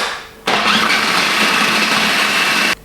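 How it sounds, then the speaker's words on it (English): A blender or food processor whirs loudly and steadily as it blends frozen bananas with plant milk for a chocolate almond butter smoothie bowl. The motor starts abruptly and runs at an even level for about two seconds, then stops sharply, with no talk over it. "add the frozen bananas along with the plant milk to a blender or food processor and blend until smooth"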